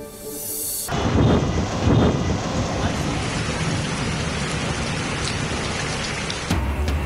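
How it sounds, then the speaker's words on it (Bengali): Heavy rain from the season's first nor'wester storm in Bangladesh pours down as a dense, steady roar of drops on surfaces, loud and continuous, following a brief moment of other sound at the start. "চৈত্রের খরতাপে স্বস্তি হয়ে ঝরল বৃষ্টি।"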